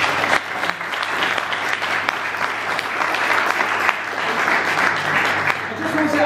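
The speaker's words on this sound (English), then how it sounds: "we just have a big round of applause for people actually organising it" Sustained applause from an audience at a community meeting opposing cuts in Brent, London, a dense even clatter of clapping lasting throughout with steady loudness and no words spoken.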